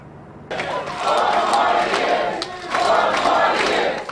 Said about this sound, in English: the crowds are often deafening when he takes the stage